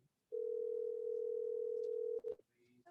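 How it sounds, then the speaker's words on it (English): A telephone tone on a live call-in show holds one long, steady, loud note for about two seconds, then cuts off with a click and faint sounds after it. "The phone is ringing."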